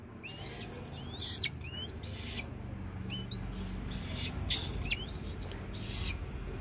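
A farmed purple swamphen calls again and again, giving sharp whistling squeals in quick bursts over a low, steady background rumble.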